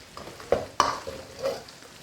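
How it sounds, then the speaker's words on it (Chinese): Chili powder is stir-fried in oil with beef tallow hotpot base in a wok: a few soft scrapes and light sizzling bursts over a quiet background, close by and brief, with no talk. "炒香过后来上1瓢辣椒面"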